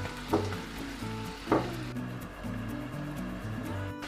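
Onions fry in a pan for a quiche, sizzling steadily at close range with a soft, continuous crackle and a couple of stirring scrapes.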